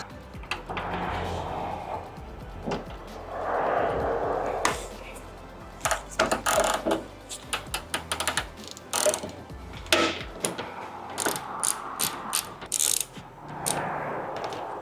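A ratcheting wrench clicks in quick, uneven bursts while fastening a strut top mount on a Honda CR-Z, with short pauses between runs and some talking in between.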